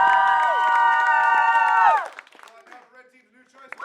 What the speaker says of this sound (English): Applaud now for blue team's tag team monologue.